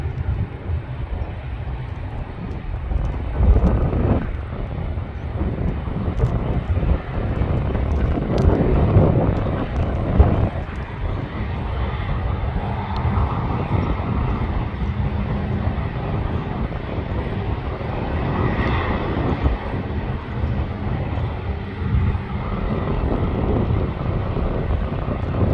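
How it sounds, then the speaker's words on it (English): Jet engines of an airliner at Canberra International Airport being run up to test reverse thrust, a steady broad roar that holds at an even level throughout, with no voices. "Testing reverse thrust. Make sure that's working."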